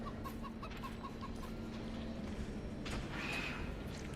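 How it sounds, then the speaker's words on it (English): Chicken clucking in the video game Cyberpunk 2077, a short run of soft, evenly spaced clucks early on over a steady low ambient hum, followed by a brief brighter burst near the end. "Chicken."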